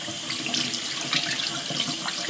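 Tap water running steadily into a sink while hands are rinsed, a close, even splashing stream throughout with no talk.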